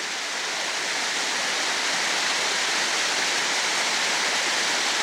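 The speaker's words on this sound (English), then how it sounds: "There's your second set of waterfalls." Lower Gunbrook Falls, a waterfall, roars in a steady, dense hiss of falling water, loud and continuous with no voices over it.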